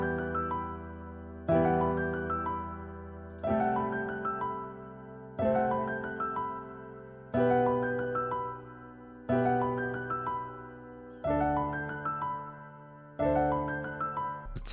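A trap beat melody programmed in FL Studio plays as eight evenly spaced, bright synth chords or plucks, each striking sharply and then decaying, repeating at a steady pace, clean and alone without any talking.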